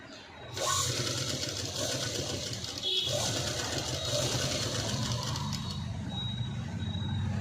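A sewing machine stitches piping onto a zip blouse, humming and clattering at a steady close pace throughout, with faint mechanical clicks and no speech over it.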